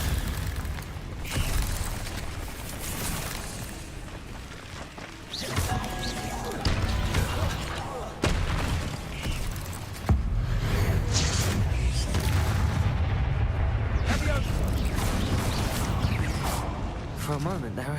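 Bombarda and Confringo spell explosions in Hogwarts Legacy burst out as repeated loud booms and crashes amid continuous combat noise, with a voice speaking over the action.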